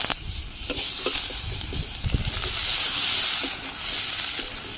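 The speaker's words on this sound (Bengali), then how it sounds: "কড়াইও গরম হয়ে গেছে অতিরিক্ত, একটু জিরে দিয়ে দিই, পেঁয়াজ কুচি" Cumin and chopped onion hit a very hot wok on a rooftop clay stove, giving a loud, continuous sizzle and hiss broken by scraping stirs, close up and with no talk.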